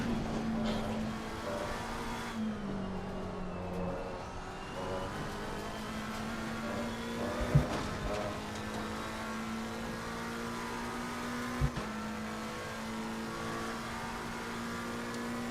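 Race cars in Assetto Corsa Competizione, a Porsche and a Mustang, run along a straight at Silverstone with a steady engine drone that rises and shifts pitch. Two short sharp knocks stand out over the continuous motor sound.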